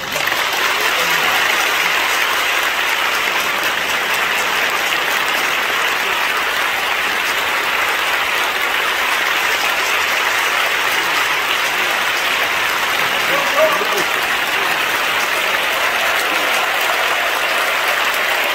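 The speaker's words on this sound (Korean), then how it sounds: "하나님께 영광의 박수를 드리겠습니다" Congregation applause at a Korean church celebration marking 50 years of military mission work, sustained, dense clapping from a large crowd that continues evenly and loudly for the whole stretch.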